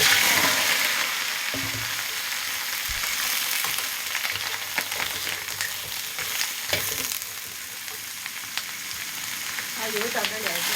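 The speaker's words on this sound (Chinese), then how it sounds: "我们先把那个羊肉给它爆炒一下哈" Mutton is stir-fried in a pot before being made into soup, with a steady close hiss and sizzle that eases slightly over time, joined by scraping stirs and clinks of the utensil.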